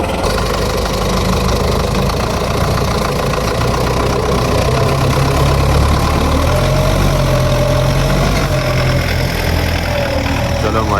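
A tractor engine runs loud and close while pulling stuck vehicles out during an off-road recovery on the salt flats of the Rann of Kutch, a steady idling rumble with a knocking beat that never lets up.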